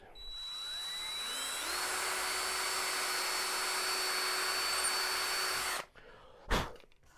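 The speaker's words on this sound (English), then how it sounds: "let's get this thing drilled out." A small power drill running at a steady high whine while drilling out part of a Carl Goldberg Ultimate 10-300 model biplane fuselage, close and loud for several seconds, then stopping, followed by a brief clunk.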